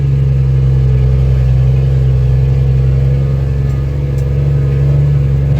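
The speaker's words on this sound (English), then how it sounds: "Just letting her eat in third gear here." Dump truck engine pulling in third gear up a gravel hill, a loud, steady low-pitched diesel drone with strong engine harmonics holding constant under load, close to the cab; no talking.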